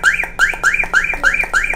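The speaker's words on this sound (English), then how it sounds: "Siren will make a long time sound." Bluetooth car alarm siren sounding, a loud electronic whooping tone repeating rapidly about every quarter second, close and alone.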